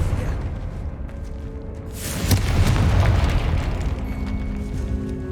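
A Confringo fire spell exploding in Hogwarts Legacy on PS5, a deep booming blast that swells suddenly and rolls on as a loud rumbling roar over a steady background hum.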